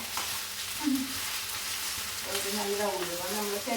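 Fenugreek leaf thoran stirred and fried in a pan, with a steady close sizzle and scraping stir strokes throughout, plus a faint voice murmuring briefly.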